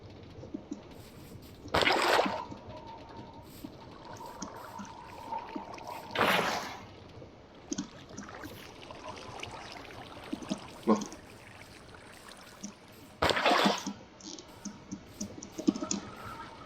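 In the modded Minecraft game, water is placed and splashes in several brief broadband bursts, with soft clicks and ambient in-game sounds filling the quieter gaps between them.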